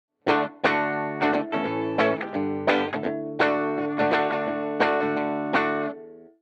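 A Nash electric guitar on its rhythm circuit with the tone set fully trebly, strummed in a series of bright, ringing chords that each decay before the next, clean and loud with no talk.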